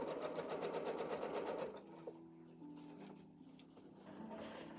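A sewing machine stitches an apron with a rapid, steady mechanical whir for about a second and a half, then stops, leaving faint handling noises and room quiet.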